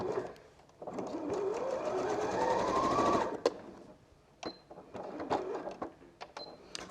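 Sewing machine stitching quilt strips for a Christmas star block: a close, continuous whirring run of rapid stitches that rises in pitch and lasts a couple of seconds, then stops, followed by short bursts of stitching and clicks.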